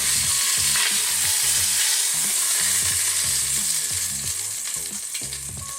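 Pork shoulder steaks sizzle steadily in a wide-bottomed pan on the stove, a loud continuous fry with crackling bursts and a few low knocks, no voices.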